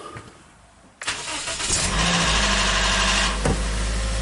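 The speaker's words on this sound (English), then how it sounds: "we'll start the car." A car engine cranks over and catches after a second of quiet, then settles into a steady, rumbling idle close by with no voices.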